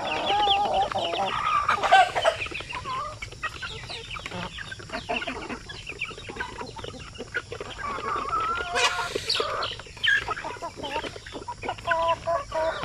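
Native chickens in a range area cluck and call repeatedly, moderately close, with farm background noise and no talk.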